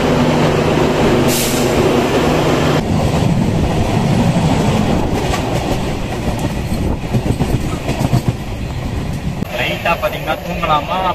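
A Duranto Express train runs on the Konkan Railway, a loud continuous rumble of rolling wheels with rhythmic clickety-clack heard from on board, with talk mixed in.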